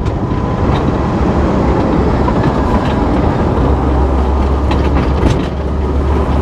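A 1955 Chevy Nomad rolls along in second gear with its front brakes dragging, a loud, continuous mechanical rumble and clatter with rattling knocks throughout.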